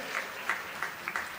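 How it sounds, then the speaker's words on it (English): A church congregation claps after a sermon, a soft, scattered patter of applause that sounds fairly distant and thin. "If you really did like it, just clap for the church."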